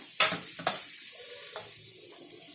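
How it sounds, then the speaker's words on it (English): Diced potatoes and onion being stirred through a spiced tempering in a pan over slow-to-medium flame, with a few sharp spoon scrapes against a steady soft sizzle; no talking. "We give all of this a good mix so that everything gets coated with this bagar"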